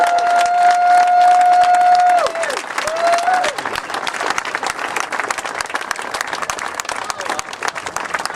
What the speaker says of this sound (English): let's give the men and women in uniform a great big round of applause